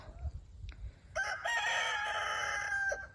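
A rooster crows once, a loud drawn-out call rising and holding for about two seconds, after some faint background noise.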